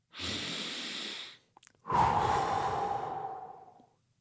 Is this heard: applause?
no